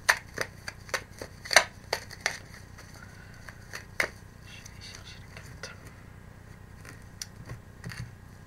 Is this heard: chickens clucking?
no